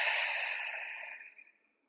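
One long, deep open-mouth exhale during a vinyasa yoga session, breathy and close, fading out gradually over about a second and a half with no talk.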